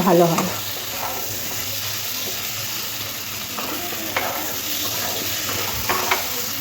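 Taro and potato cooking down in a pan, with a loud, close sizzle and frequent clattering scrapes from a spoon stirring against the metal.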